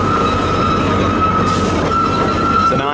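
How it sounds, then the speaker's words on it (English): A miniature park railway train carries riders at Pleasurewood Hills, giving a steady continuous rumble of wheels on track with a sustained tonal whine throughout, no talking. "Nice relaxing ride on the park railway."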